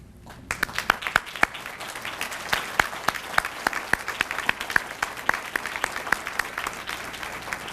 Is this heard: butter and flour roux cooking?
no